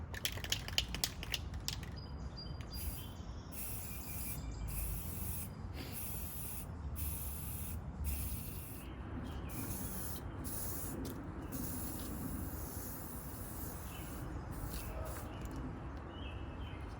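A spray can hisses steadily while priming a table in sections, a long close spray broken by several short pauses between passes.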